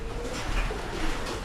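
Pigeons coo softly and steadily through the whole stretch, a low continuous murmur of several birds kept in a loft, including blue bar pigeons, with no talking.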